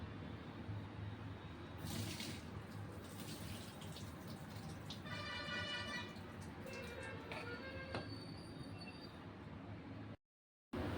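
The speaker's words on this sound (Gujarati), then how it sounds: "આપણે આ દાળને ધોઈ કાઢીશું." Water sloshes and trickles steadily, with light swishing and splashing as lentils are rinsed, ending in a brief silence near the end.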